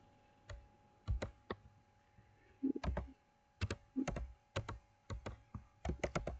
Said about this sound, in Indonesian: Kemudian kita ketikkan perintahnya juga.